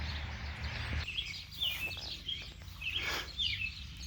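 Small birds chirp and tweet in short, scattered calls outdoors on a farm with hogs during mulberry season, faint and somewhat distant over a low background rumble.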